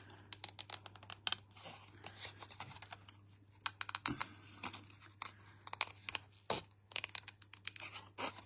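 Scissors snip paper die-cut foiled elements for stamping, in a close series of irregular crisp clicks and rustles over a low steady hum, with no talking.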